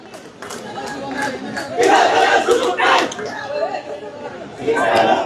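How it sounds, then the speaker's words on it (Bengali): Students at Dhaka College gather at the campus Shaheed Minar and chant slogans in a protest. A loud crowd of voices rises in rhythmic bursts with chatter between them, and the chanting swells and peaks several times. "সেই শহীদ মিনার এসে জড়ো হয়েছে এবং তারা কিন্তু বিভিন্ন স্লোগান দিচ্ছে"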